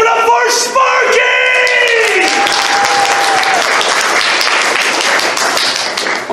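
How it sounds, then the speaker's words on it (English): Open-mic comedy crowd at a furry convention bursts into loud, sustained applause with whoops and yells for the next performer, a dense wall of clapping filling the room. "Ladies and gentlemen, both and neither, give it up for Sparky!"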